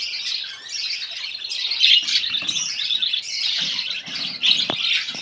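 A dense continuous flock chatter of caged yellow breeding birds, with bright chirps and tweets close by, occasional louder squawks, and no speech.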